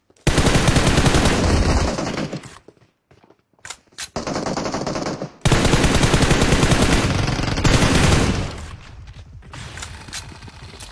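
Dense bursts of automatic gunfire in the battle game PUBG, loud and close, rattling in long volleys broken by brief pauses, then dropping to quieter, more distant shooting at the end.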